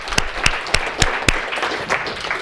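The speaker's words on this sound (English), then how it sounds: "let's all give ourselves an applause" Applause from a small audience at the end of a university history class: a few distinct, evenly spaced claps ring out first, then blur into a soft, steady spread of scattered clapping.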